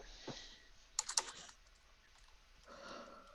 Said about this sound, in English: Oh, this keyboard is killing me.